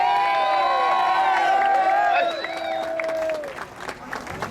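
A rally crowd at a religious freedom gathering in Boston cheers and whoops, loud and sustained at first, then thins out toward the end.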